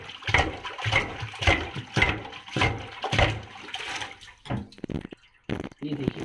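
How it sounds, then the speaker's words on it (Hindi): Water drains from a kitchen sink that has just been unclogged, gurgling and splashing in repeated bursts roughly every half second as it is pushed down the drain, close and fairly loud, with a short pause near the end. "ये देखिए पानी गया इसका,"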